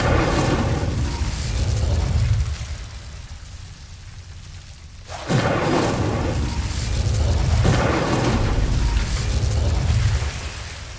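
Incendio fire spells cast in Hogwarts Legacy, loud whooshing roars of flame that swell, drop away, then burst back sharply and crackle on before fading.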